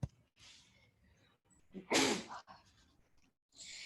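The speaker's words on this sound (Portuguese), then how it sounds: "Eu não aguento mais espirrar, gente." A woman in a live online art class lets out a single loud, sharp sneeze midway, surrounded by quieter breaths and small nasal sounds.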